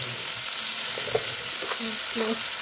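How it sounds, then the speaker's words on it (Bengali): Green plantain pieces frying in hot oil tempered with cumin seeds and dried red chilli, giving a steady close sizzle with light stirring and utensil scrapes, no talking. "এই তেলে জিরে আর শুকনো লঙ্কা ফোড়ন দিয়ে কলাগুলোকে ছেড়ে দেবো, মানে কাঁচকলা"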